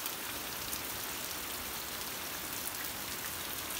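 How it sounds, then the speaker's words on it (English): Slow, steady rain falls in Warm Springs on a warm summer day after a windy front has passed, a soft and even patter of drops that holds constant with no voices. "Kind of a slow, steady rain."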